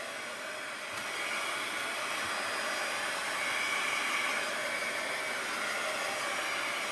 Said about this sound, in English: Just kind of drying off the paint here.